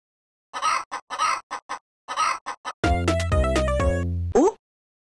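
A cartoon hen in the Amiga game Mickey ABC gives several short bursts of clucking with brief gaps between them, followed by a sustained synthetic musical jingle.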